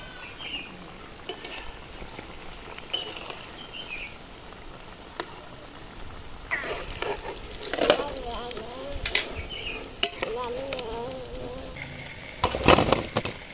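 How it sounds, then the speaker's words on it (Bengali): Semolina chops deep-frying in hot oil, a soft steady bubbling sizzle that swells into louder crackling bursts as pieces are turned, close up and intermittent. "উল্টে পাল্টে লালচে করে ভেজে নেব"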